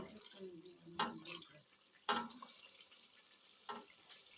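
Palm kernel oil cooks in a pot with a faint bubbling bed, broken by three distinct scraping strokes of a spoon stirring the bottom, quiet and close.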